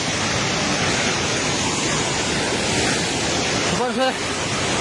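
Loud, dense roar of a flooding Trishuli river rushing near the Trishuli bridge in Nepal fills the whole clip, close and constant, with a brief voice-like sound near the end.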